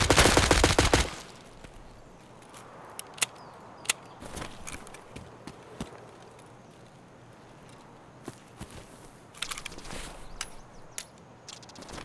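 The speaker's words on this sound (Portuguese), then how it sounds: "Ele tá rolando algum tiroteio, alguma coisa daquele lado ali." Gunfire from a distant firefight in the video game Escape from Tarkov, a rapid burst at the start followed by scattered faint cracks and shots, with footsteps in between.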